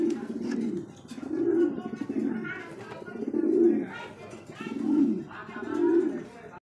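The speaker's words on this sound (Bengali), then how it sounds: "এখানে আরো এক জোড়া কবুতর" Pigeons cooing at a breeder's loft, a series of low rhythmic coos repeating about every second, fairly close and clear, with faint background noise between calls.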